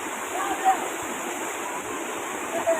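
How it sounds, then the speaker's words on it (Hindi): River water rushes steadily in a continuous broadband wash, with a few louder splashes, at a mountain river in the Naran Kaghan area where children are bathing. "वहाँ की नदियों में इस तरह पानी आता है।"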